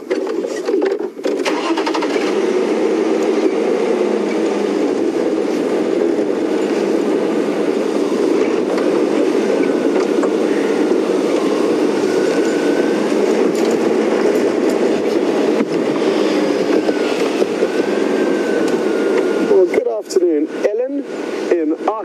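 A safari vehicle drives off to reposition on a game drive, its engine and rough rolling noise a steady, loud rumble that continues throughout before easing near the end.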